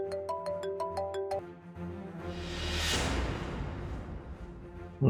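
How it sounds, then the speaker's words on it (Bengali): A mobile phone rings with a bright, repeating electronic tone for about a second and a half, then stops and gives way to a soft whooshing swell. No one speaks. "অপু, আর্য স্যার ফোন করছে।"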